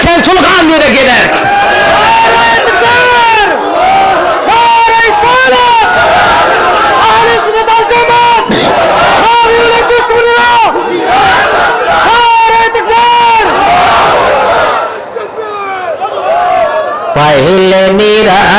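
A large crowd at a religious gathering devoted to the Prophet chants slogans in loud, rhythmic, massed shouts, rising and falling in waves close up, with a brief dip before the chanting surges again.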